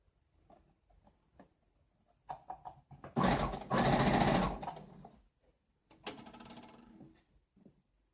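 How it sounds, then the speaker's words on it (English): A serger sewing machine stitches fabric for a house dress in two loud, dense bursts of whirring, one long and one shorter, separated by quiet handling sounds. "Holding and closing the serger stitch."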